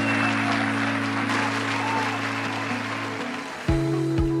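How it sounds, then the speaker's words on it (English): Audience applauds a conference magician billed as the British magic champion, a steady dense wash of clapping across the room that holds throughout, with a low hum and a tonal swell starting near the end. "Give him a warm applause."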